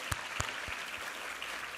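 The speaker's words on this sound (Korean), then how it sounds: "우리 하나님께 감사와 영광의 박수 올려드리겠습니다" A church congregation at a Sunday service applauds in praise, a faint, distant wash of many hands clapping with a few sharper claps standing out at the start.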